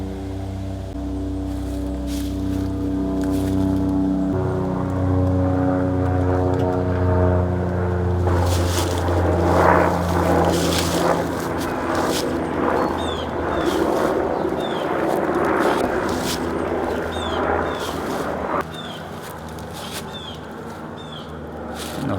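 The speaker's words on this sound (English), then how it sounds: "where I live, it's right on the flight path for medical helicopters going between our local hospital and the hospitals in Little Rock" A medical helicopter passes overhead along a flight path between hospitals, its steady engine drone and harmonic whine swelling loud and then easing off over about twenty seconds, with no talk.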